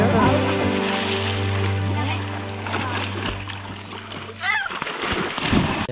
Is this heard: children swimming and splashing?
yes